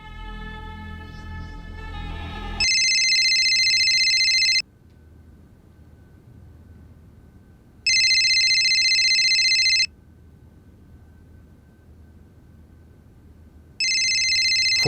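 A phone rings three times in loud electronic bursts of about two seconds, separated by a few seconds of quiet. A dramatic low musical sting sounds just before the first ring.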